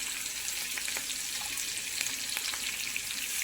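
Chana dal fries in hot oil with a steady, close crackling sizzle and faint bubbling, interrupted by small pops and occasional soft stirring, with no voices.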